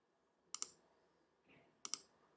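Two crisp mouse double-clicks, close and sharp, separated by a soft shuffle of movement.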